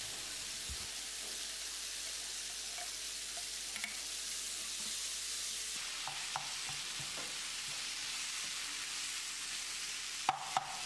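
Potatoes tipped into a pan of softened, sizzling tomato for a curry-leaf potato chutney and stirred, giving a steady close frying hiss with scattered soft scrapes and clicks of the spoon, a couple of sharper knocks near the end.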